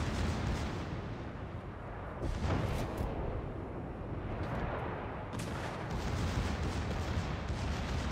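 The Bismarck's secondary guns in World of Warships fire in a dense, continuous barrage of heavy booms and cracks, loud and close, with no voices.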